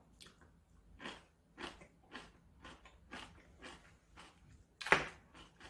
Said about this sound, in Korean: 자, 얼마나 잘 익었는지 한번 먹어보겠습니다